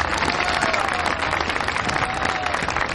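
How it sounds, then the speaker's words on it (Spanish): Dense, bright applause from a gala audience for the maestro, steady close clapping from start to end with no voices over it. "Un aplauso más fuerte para el maestro."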